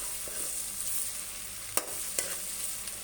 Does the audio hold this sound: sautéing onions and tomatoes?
yes